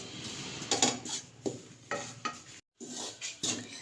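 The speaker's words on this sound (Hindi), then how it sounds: "पहले इसको ऐसे ही हम भून लेते हैं।" Wheat flour roasts in a pan for flaxseed laddoos, with a spoon scraping and stirring in short, irregular strokes, close and fairly soft, broken by one brief pause.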